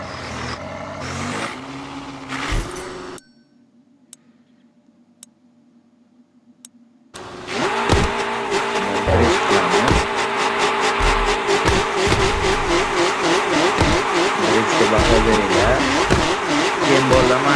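A BMW M5 in the Car Parking Multiplayer game revs and drives off after a brief quiet pause, its synthetic engine note loud and continuous with rising and falling pitch sweeps.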